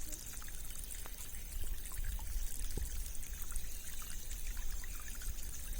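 A natural stream flowing steadily, with a continuous close wash of trickling and gurgling water and no voices.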